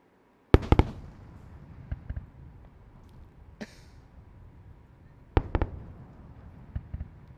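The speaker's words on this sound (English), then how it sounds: "we certainly heard those sonic booms here at the KSC press site, as the two side boosters have successfully returned to landing zones 1 and 2" Sonic booms from Falcon Heavy side boosters returning to landing zones at Kennedy Space Center, two sets of sharp double thumps heard from a distance, with faint rumble and scattered lighter pops between them.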